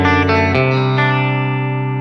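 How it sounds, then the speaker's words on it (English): An electric guitar played clean on the neck pickup with the tone knob rolled halfway, giving a warm, rounded chord that rings loud and sustained before a second strum changes the voicing. "that's neck by itself with the tone knob rolled out around halfway to 5"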